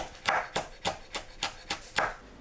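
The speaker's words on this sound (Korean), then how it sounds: "청양고추는 반 갈라 씨 빼고 채 썰어주세요." Cheongyang chili peppers being sliced with a knife on a cutting board produce eight evenly spaced, crisp chopping taps in quick succession, close and fairly quiet.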